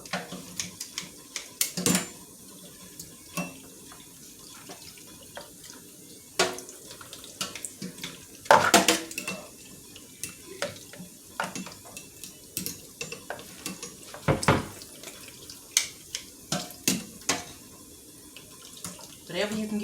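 Tap water runs continuously into a sink while pork neckbones are rinsed and cleaned by hand, with scattered splashes, clinks and handling noises over the steady flow, close up.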